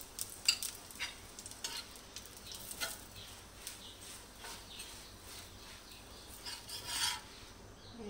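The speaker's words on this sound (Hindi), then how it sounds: "अब हम इसकी साइडों पे मैं घी डाल दूंगी ताकि ये हमारा अच्छे से फ्राई हो जाए" Egg paratha fries in ghee on a pan with a soft, steady sizzle, faint and close, broken by occasional light scraping and stirring sounds.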